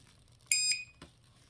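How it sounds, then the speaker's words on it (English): A single short electronic beep from a spot welder, a bright high tone lasting a fraction of a second, followed by a faint click in an otherwise quiet room. "The thing start beeping before anything happen"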